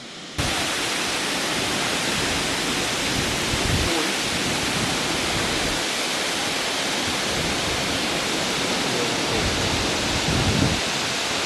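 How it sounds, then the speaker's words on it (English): A forest waterfall in Arunachal Pradesh roars as a loud, unbroken rush of water that starts abruptly and holds steady throughout. "So nice to see waterfall with like no people around."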